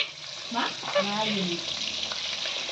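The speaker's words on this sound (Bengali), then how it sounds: "এসে মাছগুলো ভেজে দিচ্ছে" Fish frying in a pan gives off a steady, close sizzle that runs the whole way through, with faint voices in the background.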